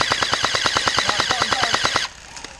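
Airsoft guns fire in a fast, even stream of about twenty sharp snapping shots during an outdoor skirmish, close and fairly loud, then stop abruptly, leaving quiet background.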